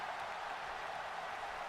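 A crowd cheers in WWE 2K18 during a tag-team champion wrestling match. The arena roar is steady, broad and fairly faint, and no talk is heard.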